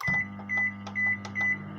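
A microwave oven heats cake batter with a steady low electrical hum, and four short high beeps ring out evenly spaced over it, close and clear.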